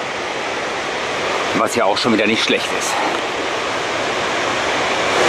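The roar of the Espeland waterfall in Norway, a 99-metre drop, fills the air as a steady, loud wash of broadband noise while someone talks over it briefly.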